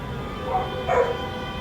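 A Minecraft dog gives two quick, moderately loud yips about half a second apart against a faint, steady background.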